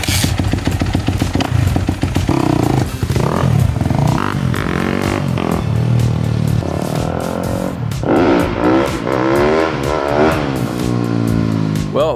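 A freshly built supermoto motorcycle runs loud and close, its engine revving up and down in repeated surges with sputtering, rising and falling pitch throughout, and no talk over it.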